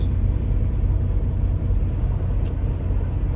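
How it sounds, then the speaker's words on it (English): A line of trucks idles at a truck entrance, a heavy continuous low engine rumble, close and steady, with a brief faint high click partway through and no talking. "Whole line of trucks."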